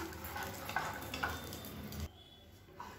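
Soft wet stirring of a thick breakfast batter, a few scraping strokes with a quiet sizzle behind, then the stirring stops.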